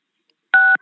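A single short dual-tone telephone keypad beep, clear and close, sounding once after near silence.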